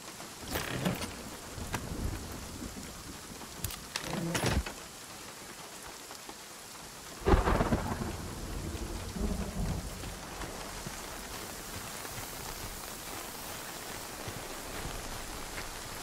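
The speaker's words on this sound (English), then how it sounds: "it's raining again where we are" Steady rain pours across a stormy scene in the survival game Nightingale, with thunder cracks and rumbles rolling in at intervals, loud and close at first, then settling into a constant downpour.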